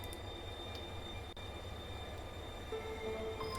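A train runs steadily in The Darkside Detective video game, a quiet continuous rumble with rail noise and a faint squeal near the end.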